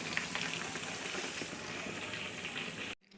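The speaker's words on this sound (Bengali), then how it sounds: "নাফিস মুবিনের জন্য চিকেন ফ্রাই ম্যারিনেট করে রেখেছিলাম, তা এখন ওদের ভেজে দিব" Marinated chicken pieces frying steadily in hot oil, a dense continuous sizzle heard close and loud with no talk, then cutting off abruptly near the end.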